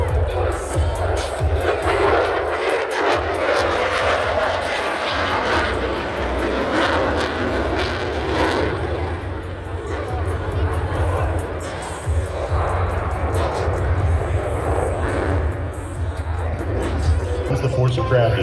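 An F-35C Lightning II roars through an airshow maneuver at night, a loud continuous jet rumble with afterburner blending with crowd hubbub while an announcer talks over it.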